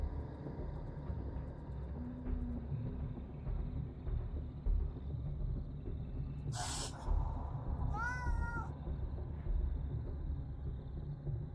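Cats in the video game Copycat, one short sharp hiss followed by a rising meow, moderately loud over a steady low background rumble, no talk.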